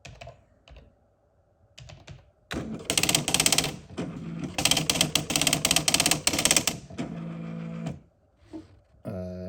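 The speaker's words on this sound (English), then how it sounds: "So let me try typing this in." Rapid clattering keystrokes on a computer keyboard come in several bursts separated by short pauses, close and clear, with no one speaking.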